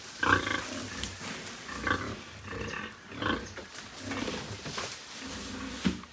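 Pigs being fed cassava (yuca) on a farm grunt and squeal in repeated rough bursts, some close and loud and others softer, with no talk over them.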